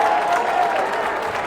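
At a basketball game, a crowd cheers and claps after a missed dunk, a loud, dense burst of applause and shouting that holds steady for a moment.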